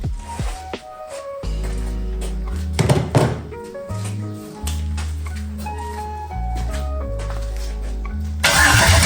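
An LS-swapped BMW E46 cranks with a thunk and starts, its engine catching and settling into a steady, loud idle with a few revs, close by.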